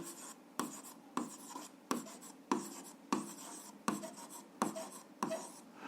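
Pen or pencil writing by hand on a notebook page while solving an algebra exercise, heard as a series of short scratchy strokes in bursts of about a second each, close and fairly quiet, with no talking.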